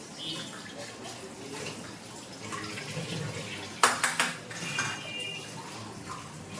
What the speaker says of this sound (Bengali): হয়ে গেল সব কাপগুলো ধোয়া